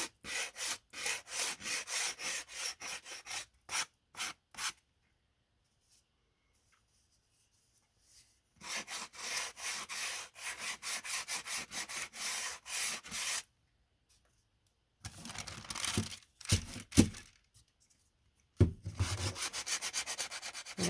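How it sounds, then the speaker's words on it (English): Sandpaper rubs back and forth along the edges of a white-painted wooden fence being lightly distressed, in long rasping runs broken by several silent pauses, close and fairly loud, with no talk. "I'll sand down the edges and spots"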